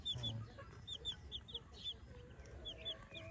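Small, high chirping peeps repeat quickly and faintly in clusters, like chicks or hens calling, against a low murmur of quiet background noise.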